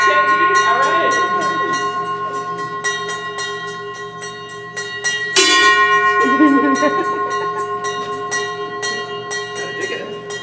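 A bell rings continuously in quick, even strikes with sustained metallic overtones, loud and close, while a voice speaks in the background and a sharp clank lands midway.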